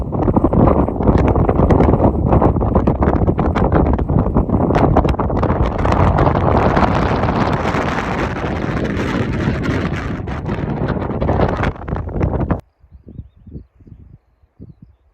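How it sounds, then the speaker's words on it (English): Strong coastal wind near Skomer island, Wales, buffets the microphone in a loud, continuous roar that cuts out abruptly near the end, leaving quiet scattered knocks. "Pretty windy."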